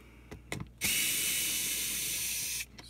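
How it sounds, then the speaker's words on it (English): An electric screwdriver backs screws out of a Young Living Desert Mist diffuser: a few light handling taps, then a loud, steady motor whir for about two seconds that stops abruptly. "I'm going to go ahead and use an electric screwdriver to pull these out really quick"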